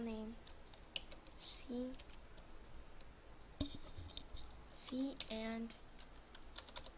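Computer keyboard typing as a file name is entered, quick bursts of close key clicks in uneven clusters, with a voice speaking between the keystrokes.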